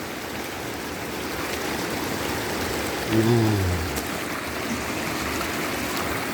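A river stream flowing past rice fields near Cinangka, Subang, gives a steady, close rushing of water throughout, with a brief spoken word partway through.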